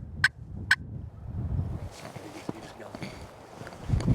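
A Merriam wild turkey gobbler gobbles twice in quick succession at a distance, sharp and clear, followed by soft rustling and footsteps outdoors.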